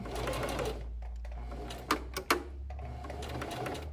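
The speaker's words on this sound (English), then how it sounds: "you're going to want to back stitch there at the end" A sewing machine back stitches over elastic at the end of a seam on a fabric face mask with a filter slot and nose wire. Close, rapid stitching runs throughout, with a few sharp clicks near the middle.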